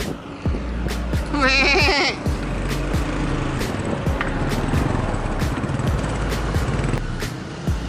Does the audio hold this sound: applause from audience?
no